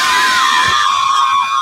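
Schoolgirls in Iran cheering and shouting with joy, a loud, sustained wall of high-pitched screams and yells from a close crowd of young voices.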